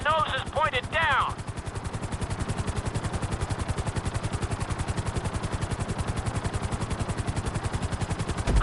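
A helicopter flies at full speed in Grand Theft Auto 5, its rotor beating in a fast, steady, loud chop that runs throughout. A voice talks briefly over it near the start.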